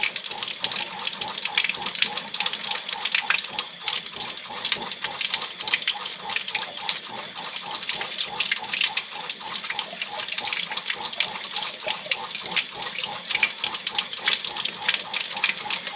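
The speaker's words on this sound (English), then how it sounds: "that noise in the background is my pump, which is giving me water pressure" A water pump's steady mechanical hum runs with flowing, splashing water throughout, continuous and fairly close, like a pump pushing water through a tap.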